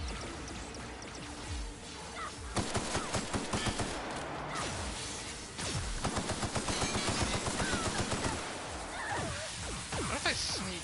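Gunfire from a weapon in the video game The Outer Worlds, rapid bursts of shots in clustered volleys over a dense, busy game soundscape, fairly loud and continuous.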